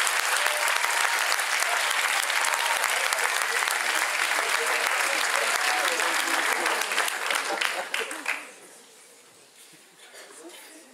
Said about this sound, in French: Merci de l'acclamer haut et fort.